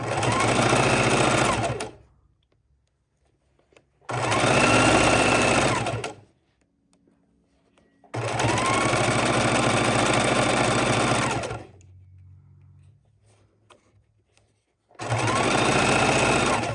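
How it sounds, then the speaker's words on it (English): A sewing machine stitches through two layers of fabric plus batting for a microwavable tortilla warmer, running in four loud, close bursts of steady whirring with quiet pauses between them. "And you're sewing under here, your 2 layers of fabric and your batting ×2"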